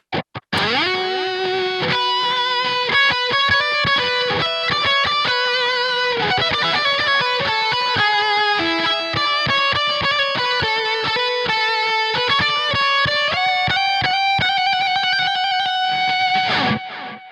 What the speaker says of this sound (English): So now I have my distortion, my boost, and a delay.